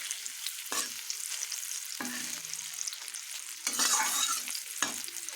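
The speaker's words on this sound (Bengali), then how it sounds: "হালকা আছে ভাজছি, এটা বেশ মচমচা হবে খেতে" Food fries in hot oil in a home kitchen for a Bengali thali, a constant crackling sizzle broken by several sharp scraping clanks as it is turned and stirred.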